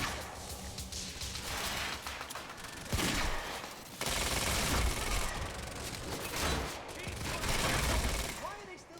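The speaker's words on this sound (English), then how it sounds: "Why are they still shooting?" Dense, continuous bursts of gunfire and explosions fill a Quantum Break firefight, loud and sustained with brief shifts in intensity, while voices speak over the combat.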